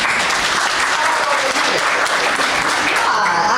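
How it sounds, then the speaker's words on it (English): An audience claps steadily and loudly, dense applause holding for a few seconds without letup. "Come on, clap it up for Douglas."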